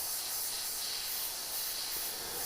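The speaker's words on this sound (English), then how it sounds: "I'm going to spray everything black." Black spray paint hisses from an aerosol can in one loud, continuous, close burst with no pauses and no talking.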